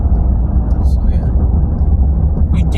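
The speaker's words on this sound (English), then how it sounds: "You do hear the road noise" Steady low road rumble fills the cabin of a 2021 Chevy Silverado 1500 pickup with a 2.7 L inline-four while driving, loud and continuous, with faint higher noises now and then.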